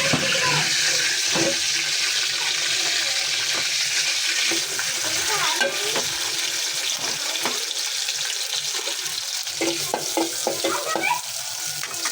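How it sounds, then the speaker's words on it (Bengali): Fish fries in a pan with a loud, continuous hissing sizzle, broken by occasional clinks and scrapes of stirring over about twelve seconds. "মাছ ভাজছি"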